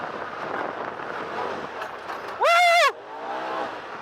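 Polaris RZR XP Dynamix Turbo side-by-side drives with steady engine and wind rumble, interrupted midway by a brief loud rising and falling tonal whine.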